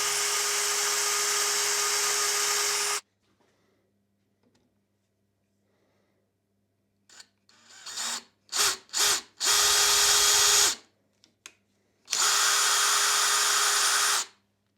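Loud whining motor of a lathe threading the end of a steel rod with a die tool, running steadily, cutting off, then a few short bursts and two longer runs separated by quiet pauses.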